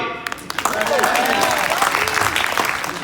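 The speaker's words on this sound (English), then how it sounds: "There's no reason to clap." Audience at a comedy night breaks into a short burst of applause, dense clapping filling the room while a voice talks over it.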